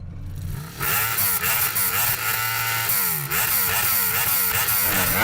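A Kawasaki H2R motorcycle revs hard in a drag race, its loud engine climbing through repeated rising sweeps as gears shift, close and continuous after a brief quieter start.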